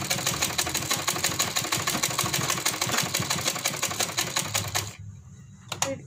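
A sewing machine runs fast and steady while stitching piping onto a neckline, its rapid needle rhythm continuing for about five seconds before stopping, followed by a brief clack.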